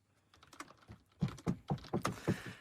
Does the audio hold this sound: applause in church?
no